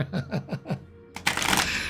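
Tarot cards shuffled by hand, a few soft rhythmic riffles followed by a dense, loud burst of card flutter, close up with no talk.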